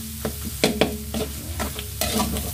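Food frying in a hot pan: an irregular run of crackling pops and hisses with a steady low sizzle beneath, close and moderately loud, with no talking.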